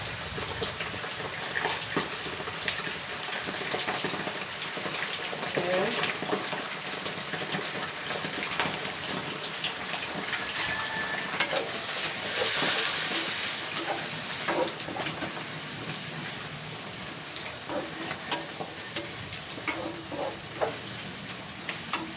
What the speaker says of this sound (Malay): Kita buat daging belada. Kita goreng sikit lah, sekejap.